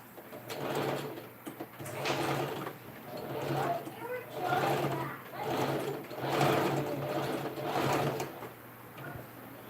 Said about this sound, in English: So let me use my machine to stitch it down.